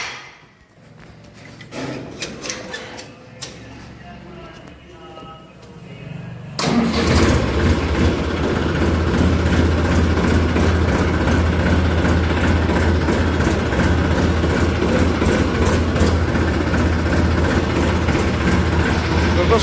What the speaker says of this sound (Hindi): फिर ट्रैक्टर निकाल लें एक बार फटाफट।